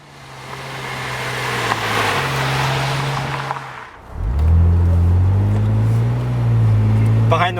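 A BMW Z4 2.5i Roadster's power convertible top hums as its motor raises the roof, a steady mechanical whir that shifts pitch midway and then settles into a lower drone, close and fairly loud.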